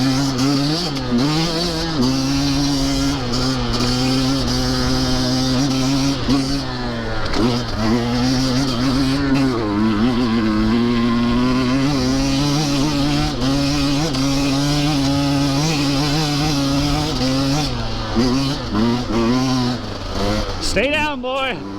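A 2023 Husqvarna TE150 or Kawasaki KX250 dirt bike ridden in the woods, its engine droning continuously with rising and falling revs, close and loud, with people talking over it.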